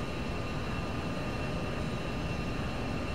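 An Aerobask Epic Victory jet in a flight simulator game roars during takeoff, a steady, dense engine whine and rush holding constant throughout at close range.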